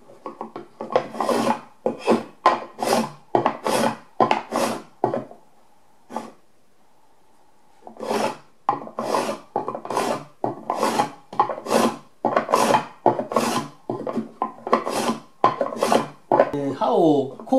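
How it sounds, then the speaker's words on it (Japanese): Rhythmic rasping strokes of a hand plane shaving red oak, roughly twenty passes in quick succession with a brief pause partway through, close and clear. "このカンナの刃を面を木に当ててこう"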